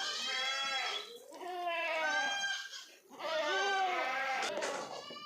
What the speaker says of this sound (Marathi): शेळ्यांना तर खूप आरडाओरडा चालू आहे